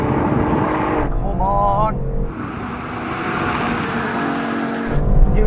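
Mercedes A45 and BMW cars drag racing, engines roaring loudly and continuously from start to finish, with a brief voice speaking over the noise midway.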